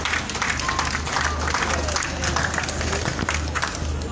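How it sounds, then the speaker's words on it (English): An audience at a dog show in Bath claps steadily throughout, a dense continuous patter of applause with a low hum underneath and faint voices mixed in. "Big round of applause,"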